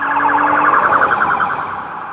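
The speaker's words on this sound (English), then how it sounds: "Here we go, the rumbler siren." A police Rumbler siren on a New York City street in Queens wails loud and close, a rapid warbling tone rising and falling over a low rumble, with no talk.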